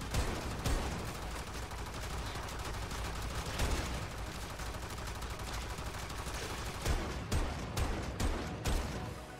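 Rapid gunfire from a buffed primary weapon in a video game, a dense stream of repeated shots with brief pauses and louder bursts toward the end, with no talking.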